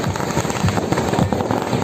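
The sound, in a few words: firecrackers exploding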